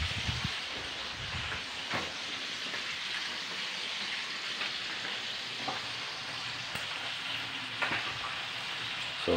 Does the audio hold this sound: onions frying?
yes